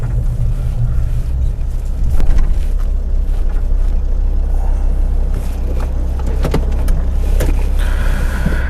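A Ford Ranger 3.2 or 2.2 diesel idling in a shop: a loud, steady low rumble throughout, with occasional clunks and rattles over it and no talk.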